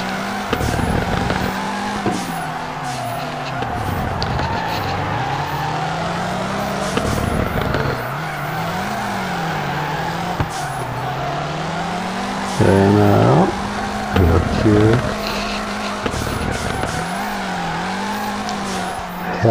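A drift car in FR Legends revs hard with a rising and falling engine note and repeated tire squeals through long slides, loud and continuous, with occasional talk over it.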